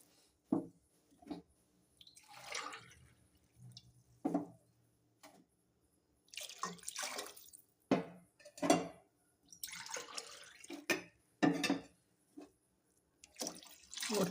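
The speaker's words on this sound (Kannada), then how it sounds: "3 ಲೋಟ ನೀರು ಹಾಕ್ಕೊಳ್ಳಿ" Water poured from a glass into a pan of half-cooked vegetables for vegetable upma, heard as several short splashing bursts with gaps of quiet between them, close by.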